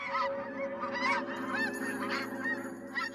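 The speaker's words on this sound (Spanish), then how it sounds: "las aves migran" Migrating geese honk over and over in a loud, overlapping chorus, with nasal calls coming from several birds at once above a steady low background hum, and nobody talking.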